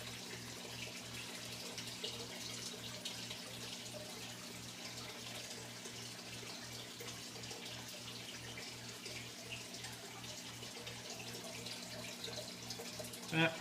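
Overflow water on a 75-gallon aquarium draining down into the sump, a steady, fairly quiet trickling and gurgling flow with a faint low hum underneath, continuous and unchanging throughout.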